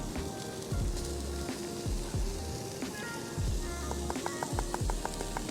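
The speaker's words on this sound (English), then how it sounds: "I'm just going to sweat the onions off" Onions sweat in a pan on a Trangia camping stove, giving a steady soft sizzle with low thumps and light clinks of stirring throughout.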